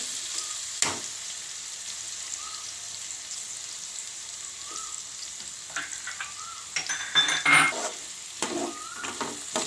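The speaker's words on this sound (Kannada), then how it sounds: "ಈಗ ಈರುಳ್ಳಿ ಹಾಕ್ತಾಯಿದ್ದೀನಿ" Onions dropped into a hot pan for Schezwan fried rice with ginger already in, giving a steady crackling sizzle and a burst of louder spattering and stirring partway through, with no voices.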